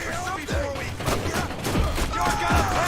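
SMG gunfire in modded Minecraft 1.17 with Optifine comes as a loud, rapid fusillade of shots and thuds. Players talk and shout over the firing.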